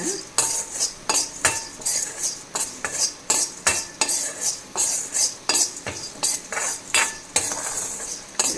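Rasam powder spices dry-roasting in a pan over a low flame, a metal spoon scraping and clinking against the pan in a regular stirring rhythm, close and distinct, with a faint dry rustle of spices between strokes.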